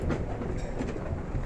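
A train at the Dubai Mall metro station gives off a close, steady rumble and rattle without a break.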